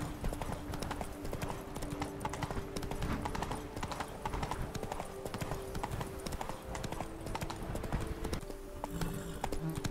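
Roach, a horse in the video game Witcher 3, trots with steady, close clip-clopping hooves throughout, over a continuous tonal game soundscape.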